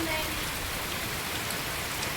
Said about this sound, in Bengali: আর এত বৃষ্টি হচ্ছে চারিদিকে সাদা হয়ে আছে